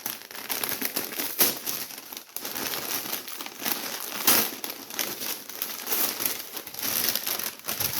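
Plastic packaging crinkles and rustles continuously as it is handled and opened up close, with a few sharper crackles and no talking.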